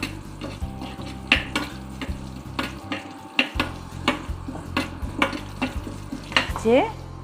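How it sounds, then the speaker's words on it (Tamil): Seven garlic cloves fry in a pan of oil while cooking sambar rice, with a steady soft sizzle under repeated rhythmic clinks and scrapes of a spoon stirring against the pan, close and moderately loud. "ஒரு 7 பல்லு பூண்டு போடுறேன்."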